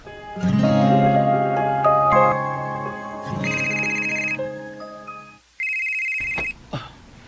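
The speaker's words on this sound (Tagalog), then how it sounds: "Ako cellphone." A cellphone ringtone plays loud and close, a bright electronic melody of layered tones with short pauses between phrases.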